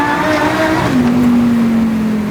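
A supercharged Lamborghini accelerates hard from close by, its loud engine note climbing steadily in pitch and then dropping briefly at a gear change before it rises again, with no talk over it.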